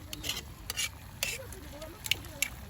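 Native chicken cooking in a pot, with a little coconut milk stirred in, gives spoon-against-pot scrapes and stirring swishes in irregular bursts over a low sizzle.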